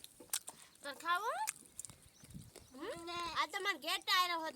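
A sheep bleating at close range, giving two bursts of wavering, quavering bleats separated by a short pause, loud against a quiet background.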